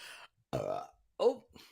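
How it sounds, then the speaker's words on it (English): Two short, loud burps break out in quick succession with silence between them, close up and voiced, followed by a faint trailing sound. "needs to stop burping like that"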